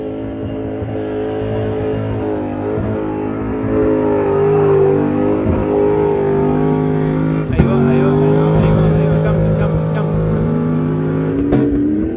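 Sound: Lexus 430 engine revving in a Nissan Patrol on dunes

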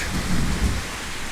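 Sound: rain falling outside

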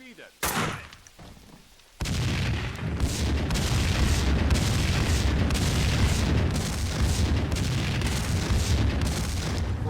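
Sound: big explosions in video game Max Payne 2

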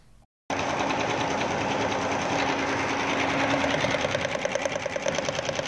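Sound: embroidery machine stitching a running-stitch design

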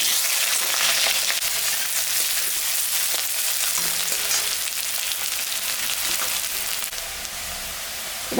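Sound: onion frying in oil with dry chili, bay leaf, cardamom

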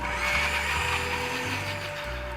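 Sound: blender blending garlic, chili and vinegar

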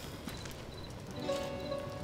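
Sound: donkey hooves clip-clopping in video game Goat Simulator MMO

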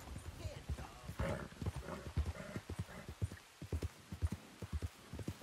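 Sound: agitated horse in the video game Red Dead Redemption 2

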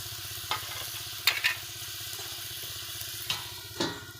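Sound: three pieces of fish added to frying pot with potatoes

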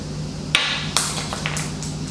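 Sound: eSun hard tough resin 3D print dropped on floor

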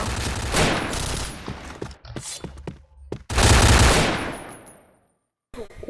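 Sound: gunfire from the video game Point Blank

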